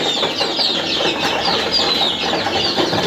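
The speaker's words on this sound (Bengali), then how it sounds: "এই দেশি মুরগির বাচ্চার ভিতরে দুইটা কালো অন্য জাতের মুরগি আছে" Young native chicks, with two larger black chicks of another breed among them, keep up a continuous, fairly loud chorus of high peeping and clucking without pause.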